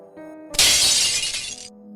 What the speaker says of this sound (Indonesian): terdengar pecahan piring